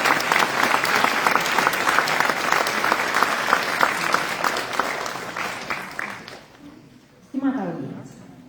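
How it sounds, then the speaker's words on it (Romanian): An audience at an opening ceremony gives sustained, dense applause that rolls on for several seconds, then thins and fades before a voice starts speaking. "Aplauze pentru că fără ei nu"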